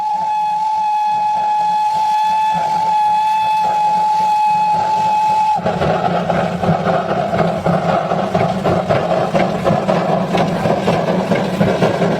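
A Martin Rail train on the Howrah–Amta line at a station: a loud sustained horn blares for several seconds, then cuts off into the heavy rumble and rhythmic clatter of the train moving, close and dominant.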